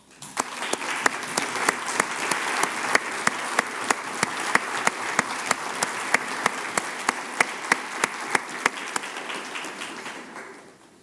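Audience applause at a Cleveland Clinic medical school graduation celebration, honoring family and friends: a steady, dense wash of many hands clapping for about eleven seconds, with sharp individual claps cutting through before it tapers off at the end.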